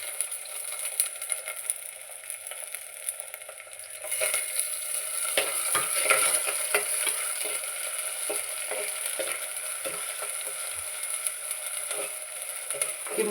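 Tomato and onion frying in oil in a pan for an aloo egg curry, giving a steady close sizzle with scattered scraping and stirring clicks, louder and busier after the first few seconds.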